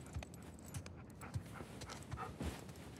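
A dog in the video game Uncharted 4 moves about nearby, with soft padding steps and light panting-like breaths recurring at an even pace beneath a low steady ambient background.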